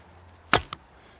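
A 32-inch arrow is loosed from a short Cagan Tatar bow: one sharp snap of the string, then a quick thud about a fifth of a second later, close and clear against a quiet background.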